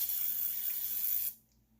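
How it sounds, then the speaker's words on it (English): A steady hissing spray from a pump kitchen oil spritzer, held for over a second, then cut off sharply into near silence. "I'm going to spray them with a kitchen spritzer"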